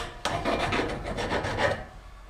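Hand file rasping back and forth over a small metal part clamped in a vise, a steady run of close, gritty strokes for about two seconds with no talk.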